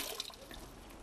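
Water runs and splashes from a street faucet in Turkey, with small irregular drips and gurgles at a soft, close level.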